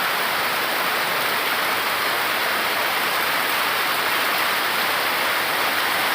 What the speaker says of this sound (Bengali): খুব জোরে বৃষ্টি নামছে